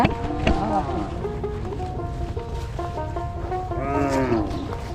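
Cattle low in long, drawn-out moos, several overlapping and close by, at a rural cow pasture on a remote river char in Munshiganj, Bangladesh. A steady rush of wind runs underneath.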